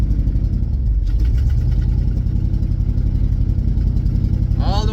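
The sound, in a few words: 1965 International Paystar truck engine running, shifting gears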